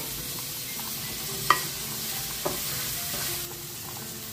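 Tomatoes frying in a pan with ginger garlic paste, a soft steady sizzle with a couple of brief utensil knocks, fairly quiet and close, no talk.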